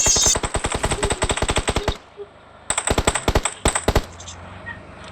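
Rapid automatic gunfire in a video game, two long bursts of close, loud, evenly spaced shots separated by a brief pause, with the second burst slightly more ragged.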